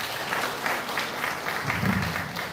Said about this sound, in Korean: 큰 박수로 보내주십니다.